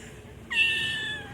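A pet cat gives one clear, drawn-out meow close by while being fed fish, a single rising-then-falling call lasting under a second after a quiet moment.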